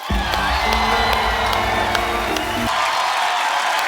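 A studio audience at The Kapil Sharma Show breaks into loud, continuous applause and cheering with a few whoops, over a swelling music intro, then the crowd noise cuts off sharply near the end.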